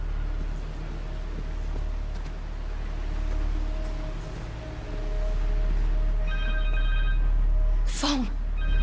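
A phone rings in Marvel's Spider-Man 2, a short trill of electronic tones near the end over a steady ambient game bed, followed by a sharp swooshing effect.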